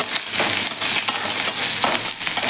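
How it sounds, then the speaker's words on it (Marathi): Green chilli and asafoetida stir-fried in a hot pan, a steady close sizzle with scraping stirs throughout, alone with no voices. "ते व्यवस्थित आपल्याला परतून घ्यायचं आहे"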